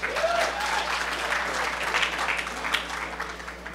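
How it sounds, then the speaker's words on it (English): Conference crowd at the Last HOPE hacker gathering breaks into applause, a sustained, moderately loud spatter of many hands with a low steady hum beneath and a brief voice near the start. "Applause, please"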